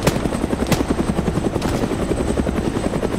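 Helicopter in the Arma 3 video game, rapid rhythmic rotor chop thumping steadily and loudly up close with no talk.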